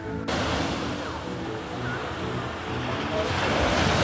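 Strong sea waves surge and wash against a shoreline in a continuous roar, with wind buffeting the microphone and the surf building a little louder toward the end.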